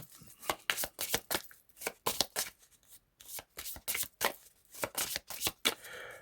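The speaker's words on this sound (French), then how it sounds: "Donc je vais mélanger les cartes." Tarot cards are shuffled by hand in rapid, close, crisp riffling bursts separated by short pauses, with no talk over them.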